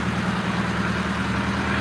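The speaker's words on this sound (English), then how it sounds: "We got the water tractor engine underneath there." A water tractor engine idles on ice at an icy fishing spot, a steady low rumble with a close, constant drone and no change in pace over the short stretch, with no voices.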